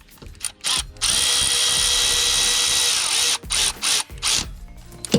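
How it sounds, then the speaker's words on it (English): Power tool zipping a bolt into a Kia Rio engine during a timing belt replacement, a loud, close whirring run of about two seconds followed by a few short ratcheting bursts. "we're gonna zap this in and then we'll torque it to 40"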